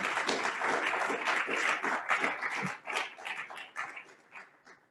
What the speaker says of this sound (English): Brothers, let us give our brother Lieutenant Governor Justice Fairfax a round of applause for such a major address.